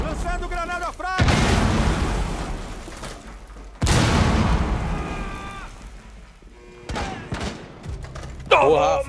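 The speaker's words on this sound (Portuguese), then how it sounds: "Lançando granada frag!" Frag grenade explosions in Rainbow Six Siege: two loud booming blasts, each decaying over a couple of seconds, then a further burst of gunfire and impacts, with players talking over the game audio.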